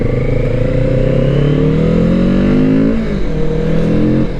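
A Kawasaki Z650RS parallel-twin motorcycle accelerates hard up close, its engine note climbing steadily through a gear, dipping briefly at a shift around three seconds, then rising again, loud and alone without talk.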